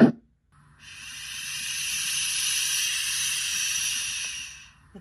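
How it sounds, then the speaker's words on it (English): A white noise machine plays a shushing sound meant for babies, a smooth steady hiss that swells in after a brief click, holds evenly and then fades, loud and close with no other sounds. "I call that a shushing sound, I guess, for babies."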